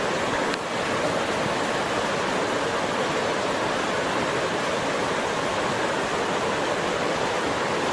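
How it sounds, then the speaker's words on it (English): Specimen Creek in Montana, a wide, river-sized creek, rushes steadily as a dense, constant roar of flowing water that fills the whole stretch without voices. "We call this a creek in Montana. It's more like a river."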